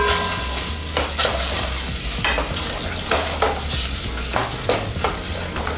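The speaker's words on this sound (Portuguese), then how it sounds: "Enquanto o catupiry derrete" Catupiry cheese melting in a pan while being stirred, with a steady sizzle and repeated scraping strokes of a utensil against the pan, loud and close with no talk.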